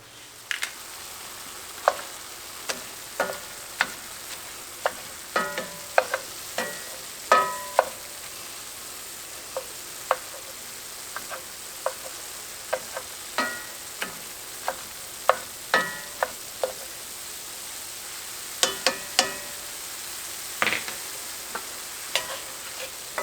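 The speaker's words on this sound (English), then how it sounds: "finish up browning the ground beef and adding the vegetables" Ground beef browns in a pan with a soft continuous sizzle, broken by frequent sharp scrapes and taps of a utensil stirring the meat, moderately close and with no talking.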